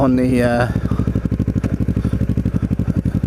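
Engine of a Kawasaki Ninja motorcycle on a ride around Lower Township, a loud, close, rhythmic pulsing that throbs steadily under a voice at the start.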